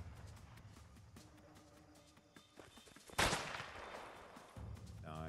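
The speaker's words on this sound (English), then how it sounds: "Oh, I got shot." A single loud gunshot hits the player in the game A Way Out. It cracks sharply through quieter ambience and scattered clicks, then trails off into a lingering rumble.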